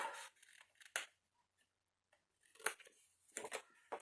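Scissors cut paper for a ribbon storage box in several short, crisp snips separated by quiet pauses, close and fairly faint.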